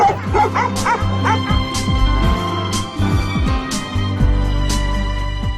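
Several dogs bark and yip repeatedly on an outing away from home, sharp overlapping barks and whimpers close by over a busy crowd background.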